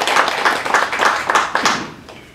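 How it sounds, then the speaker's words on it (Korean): Audience applause at a Korean book launch event, a steady wash of many hands clapping with rhythmic pulses, moderately loud and continuous, fading slightly toward the end. "박수 부탁드리겠습니다."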